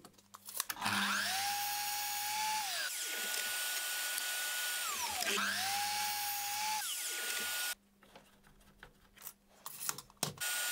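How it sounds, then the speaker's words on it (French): A power saw cuts wooden battens to equal length against a stop, whining loudly through two cutting passes with a pitch drop as each cut ends, then falls quiet apart from scattered knocks and handling sounds. "Je les découpe tous à la même longueur grâce à cette butée."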